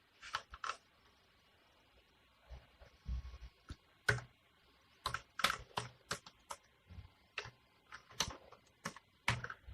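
Hello world program being typed on a computer keyboard: quiet, close, irregular key clicks in short clusters with brief pauses, alone.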